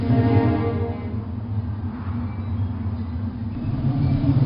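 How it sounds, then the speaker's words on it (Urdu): A dense, continuous low rumble of a storm rolls on unbroken and fairly loud, with no clear individual thunderclaps. "طوفان ہے، ہمیں کہیں پناہ لینی چاہیے۔"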